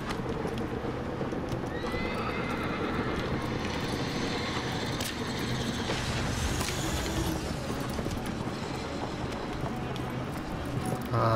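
Horse whinnies and clip-clopping hooves in the video game Shadow of the Colossus, set in a dense, loud game soundscape with steady rumbling background noise throughout.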